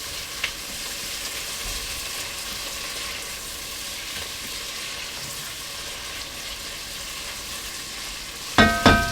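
Onions fry in a pan with a steady, even sizzle throughout, a faint scrape early on and a few sharp stirring clatters of utensil against pan near the end, no voices.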